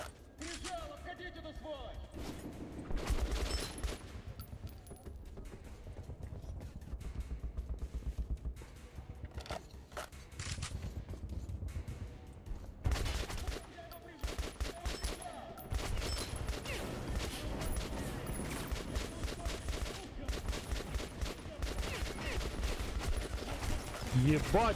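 Gunfire from an enemy lying on the ground in Metro: Last Light, bursts of shots and clattering bangs recurring throughout, loud and fairly near, mixed with mechanical noises and intermittent talk.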